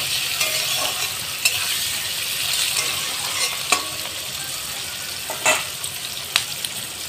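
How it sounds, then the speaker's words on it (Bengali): Green chillies and chopped onion frying with eggplant in a pan: a continuous loud sizzle with occasional sharp pops and stirring clicks throughout. "এর মধ্যে কাঁচা লঙ্কা আর পেঁয়াজ কুচি এর মধ্যে দিয়ে দিলাম, দিয়ে ভালোভাবে আমি বেগুনের সাথে ভেজে নেব"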